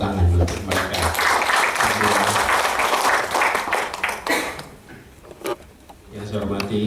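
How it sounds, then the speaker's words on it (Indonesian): An indoor audience at a book launch breaks into dense hand clapping that holds steady for several seconds, then thins into scattered claps and fades while a voice speaks over the tail. "Boleh kita beri tepuk tangan untuk mereka."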